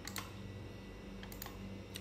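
Quick, light keystrokes on a computer keyboard, a few scattered clicks tapping out a short burst of text, faint and close in a quiet room.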